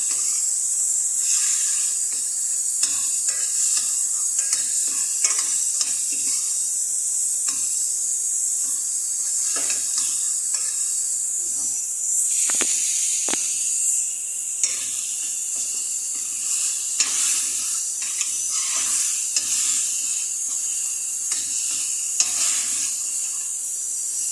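Onions sauté in a pan for squash in coconut milk with seafood, giving a loud steady sizzle and hiss close up with occasional stirring scrapes throughout, no voices over it.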